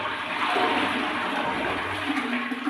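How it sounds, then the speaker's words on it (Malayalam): A bathroom toilet flushes close by, a loud continuous rush of water that runs steadily throughout without any talking. "ഇതുപോലെ ഒന്ന് ഫ്ലഷ് ചെയ്ത് കഴിഞ്ഞാൽ"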